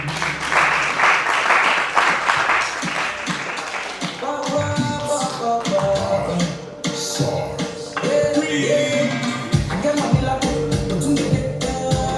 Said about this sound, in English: a round of applause for Cynthia Njambi